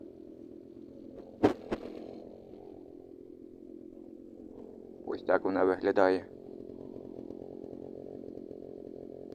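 A small petrol grass trimmer engine idles steadily and nearby with a low buzzing drone, briefly revving a few times midway while a person speaks over it.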